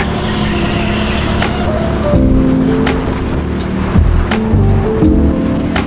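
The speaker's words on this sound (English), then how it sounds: "Coming through into the final corner, I'm being a lot smoother with the petrol kart." Petrol go-kart at Teamsport Mitcham running through a corner on an indoor track, a steady loud engine drone with rising and falling pitch and several sharp bangs, no voices.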